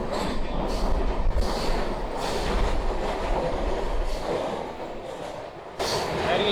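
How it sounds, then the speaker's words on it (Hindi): Steady rumble and clickety-clack of a passenger train running through forest between the Vindhya and Satpura ranges, loud and continuous with wheel noise throughout. "हमारी ट्रेन काटते हुए निकल जा रही है।"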